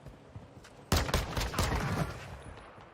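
Gunfire in Call of Duty Warzone: a sudden burst of rapid shots fires in a dense volley for about a second, then trails off into quieter echoing reports.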